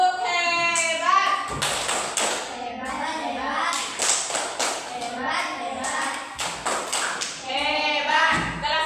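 Classroom of young pupils in an Islamic studies lesson performing a rhythmic clapping chant together, sharp patterned claps and taps mixed with children's voices chanting in unison, close and lively.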